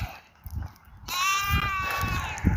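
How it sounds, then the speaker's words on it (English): Sheep bleat outdoors during a walk: a long, wavering, nasal bleat comes in suddenly and carries on near and loud over the low rumble of wind and footsteps. "Oh, and here's some more sheep."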